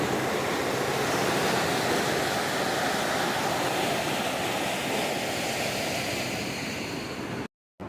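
Floodwater rushes fast through the Harike Pattan barrage on the Punjab river. It makes a loud, steady roar of churning water with wind buffeting the microphone, constant throughout and then cut off abruptly near the end.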